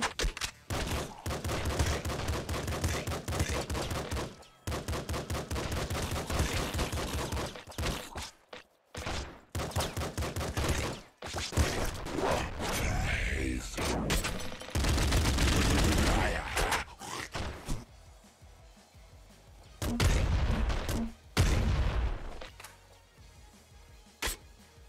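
Rapid machine gun fire from a triple machine gun in the video game Nuclear Throne, loud and dense in sustained bursts with brief pauses and scattered thuds of other game effects.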